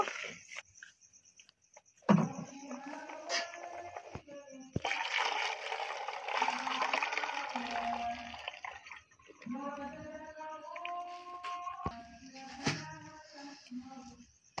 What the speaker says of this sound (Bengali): আমার ভাতটা হয়ে গেছে, আমি এবার মারটা ফেলে দিব।